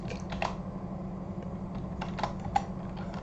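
Keys clack on a computer keyboard in scattered bursts of quick clicks, close and moderately loud over a steady low background hum, with no talking.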